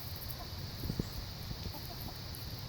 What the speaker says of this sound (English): rounding up her chickens to put them in the coop at night